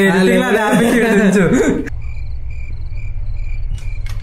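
Crickets chirp in short, regular repeating pulses at a steady rhythm, faint and continuous after a man's speech cuts off, with a low background hum beneath.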